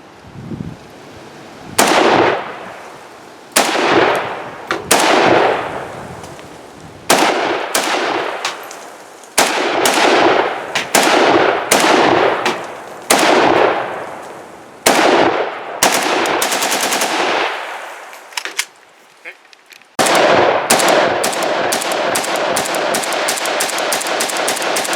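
An Arsenal SAM 7R AK rifle fires at an outdoor range in loud, sharp shots, mostly single or in short strings with echoing decay, then a rapid steady run of shots near the end.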